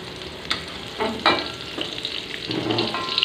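Ground spice paste stir-fried with green eggplant in a wok, a steady close sizzle broken by a few scraping spatula strokes.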